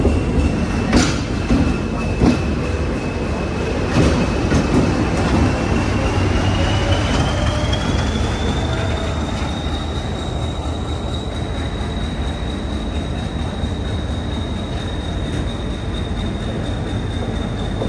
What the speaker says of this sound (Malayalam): ഒരു പഴയ ലോക്കോമോട്ടീവ്